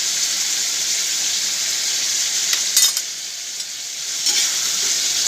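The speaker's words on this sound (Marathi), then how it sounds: "हलवून घ्यायची चांगलं" Food in a pan sizzles loudly and steadily after turmeric and salt go in, while a spatula gives two or three brief scraping stirs through the hiss. No speech.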